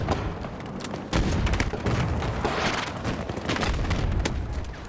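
Dense gunfire in a multiplayer shooter battle, a rolling barrage of shots and booms layered close and far, continuous and loud with no pauses.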